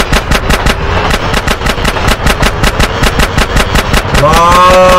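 Rapid automatic gunfire rattles in Grand Theft Auto San Andreas during a fight around a train, loud evenly spaced shots hammering on without pause, with a shouting voice rising near the end.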